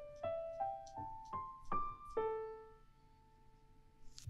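An Orba 2 lead voice plays a short rising pentatonic phrase of five plucky synth notes stepping upward, then holds a lower sustained tone that fades, clean and close with no talking.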